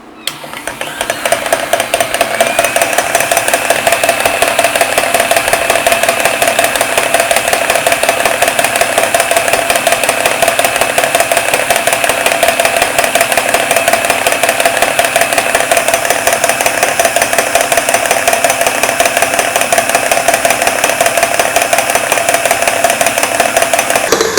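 An electric mixer beats vanilla butter cake batter with eggs in a loud, steady motor whir that runs unbroken from start to finish.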